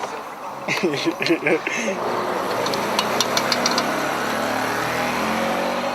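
A car engine rises as the vehicle pulls away from a police checkpoint at the roadside, with voices briefly heard early on and a steady, moderately loud engine and road drone continuing afterward.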